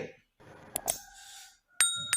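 Bright bell dings of a notification-style sound effect, a quick pair of strikes followed by another pair, ringing out clearly over a quiet background.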